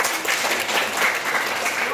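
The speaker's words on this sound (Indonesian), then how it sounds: "Tepuk tangan." Audience applause at a motivational business talk, dense even clapping from a crowd sustained for the whole moment, fairly loud with murmuring voices blended in.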